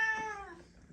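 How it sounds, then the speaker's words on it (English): A pet cat named Atticus gives a single close, clear meow in a home theater room, the drawn-out cry falling in pitch and fading away. "Apparently the cat wants to be part of the video too."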